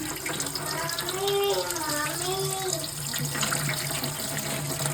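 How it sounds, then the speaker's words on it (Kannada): Tap water runs steadily into a sink as bamboo shoots are washed and cleaned, a continuous close splashing stream under a voice that talks over it. "ಸೊ ಇವಾಗ ನೋಡಿ ಇದನ್ನೆಲ್ಲ ಜಸ್ಟ್ ಕ್ಲೀನ್ ಮಾಡಿ ಹಾಗೆ ನೀರಲ್ಲಿ ಇಡುವ ಅಂತ ಹಾಕ್ತಿದ್ದಾರೆ"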